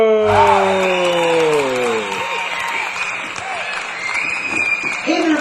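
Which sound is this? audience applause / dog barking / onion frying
audience applause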